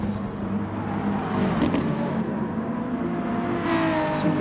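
GT1 race cars lapping Tsukuba in a Gran Turismo racing game, loud engine roar from several cars with rising and falling revs and brief passing surges, no voices over it.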